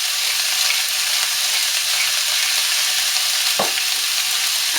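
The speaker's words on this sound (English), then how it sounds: "using 2 spatulas, we will just toss it through so it warms up the broccoli, the sprouting broccoli" Sprouting broccoli frying in a pan while being tossed with two spatulas, a steady close sizzle throughout with a brief scrape or clack near the end.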